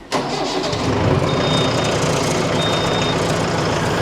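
A Mahindra Arjun 605 DI PP DLX tractor's CRDI diesel engine starts abruptly and keeps running steadily, a rough heavy rumble close by, with a faint high beep repeating in the background.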